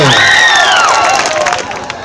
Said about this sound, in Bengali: একটু চলে হাততালি একসাথে সকল মিলে